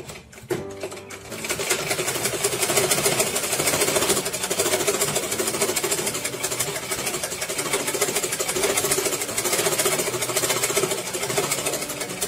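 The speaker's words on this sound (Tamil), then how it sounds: "2 பீஸை எடுத்து உள் பக்கமா நான் இப்ப ரவுண்டா தைக்க போறேன்" A sewing machine stitching two fabric pieces together along a curve, running in a steady, close mechanical whir after a brief start-up, with no voices over it.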